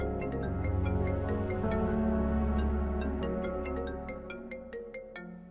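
A mobile phone rings with a loud, close melodic ringtone of layered tones and repeating bright plucked notes, playing alone and fading slightly toward the end.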